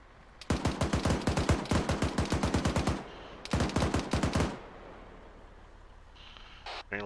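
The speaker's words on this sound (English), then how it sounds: "Doing a lot of shooting, but I got no idea what we're shooting at." Automatic rifle fire in the military game Arma 3 comes in rapid, evenly spaced bursts: a long string of close, sharp shots, a short pause, then another burst before it fades into wind-like background noise.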